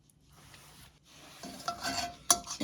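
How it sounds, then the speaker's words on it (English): A small strainer scrapes and scoops through a pan of milk on an Alaska homestead stove, a soft intermittent rubbing and scraping that builds louder toward the end, with a sharp metallic tap near the close. "you just keep pulling all of these little solids out until there's none left"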